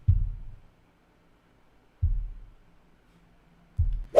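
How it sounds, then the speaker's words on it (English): A kick drum from Logic stock sounds with its highs cut, three deep, muffled, booming thumps spaced about two seconds apart in near silence, resembling a slow heartbeat. "So the kick sounds more like a heartbeat."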